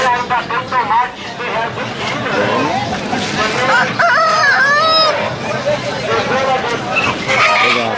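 Roosters crow and chickens cluck loudly at a busy open-air market, the old airport fair in Santarém, where ducks are also sold; repeated crows ring out close by over a steady babble of shoppers and vendors talking.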